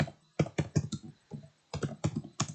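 Typing on a computer keyboard while writing Java code, a close series of crisp key clicks in short uneven bursts separated by brief pauses.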